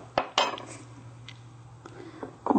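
A spoon stirs gazpacho in a bowl, giving a few close clinks and scrapes against the side, then a quieter stretch and a final cluster of knocks. Brief, with no voices.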